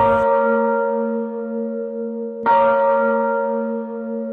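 A Belgian-made church bell in a Lithuanian community church in Canada tolls twice, each deep, resonant strike left to hum and fade slowly with no talking.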